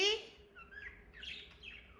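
Pet budgies give thin, high chirps and warbling tweets close by, fairly quiet, with a short rising call at the start followed by scattered twittering.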